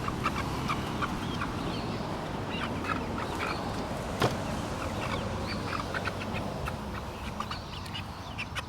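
A flock of chickens including a black Menorca hen, with steady clucking and scattered squawks over a constant background of farmyard bird noise, fairly close with no talking.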